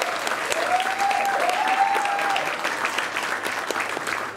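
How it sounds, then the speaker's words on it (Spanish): Audience applause at a comedy roast, dense crowd clapping that fills the room at a steady level, with a faint vocal tone drifting over it early on. "la mamá de Germán, un aplauso para la situación, por favor."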